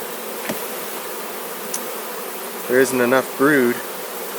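Bees buzz steadily throughout an open hive that has no brood and may be queenless, with a close, tonal drone rising in a few louder swells near the end.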